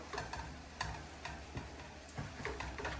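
Pasta dropping into a shrimp scampi pan, a soft sizzle with scattered ticks and stirring clatters, fairly quiet and close, with no voices.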